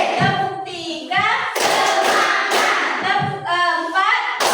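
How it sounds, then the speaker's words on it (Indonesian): In an elementary school classroom, a group claps out counted claps in a clapping game, with bursts of hand claps mixed with loud chanting voices of a teacher and children. "Kita mulai tepuk seru."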